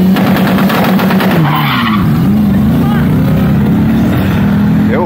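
A Chevrolet Chevette street car skids loudly on a racetrack during an inter-city acceleration challenge, its tires squealing and engine roaring up close for several seconds, with voices audible over it.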